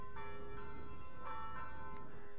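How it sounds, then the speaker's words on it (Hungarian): The bell of a Reformed church in the Hungarian village of Kádárta rings with steady, evenly spaced strikes, each leaving a sustained ringing tone over a rough background. "itt a harangot megpróbálom túl kiabálni, a református templomnak a harangját"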